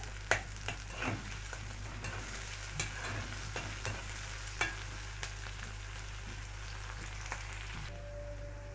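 Fava beans frying in a pan with a little garlic and hot pepper are stirred, giving a soft, steady sizzle broken by sharp scraping clicks of the spoon, close and quiet with no voices.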